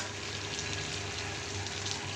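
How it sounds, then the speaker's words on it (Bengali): Prawns hissing and sizzling in a simmering pan for a chingri curry with potatoes and chickpeas, a steady close frying crackle with no talk. "এবার এর মধ্যে আমি চিংড়ি মাছগুলো দিয়ে দেবো।"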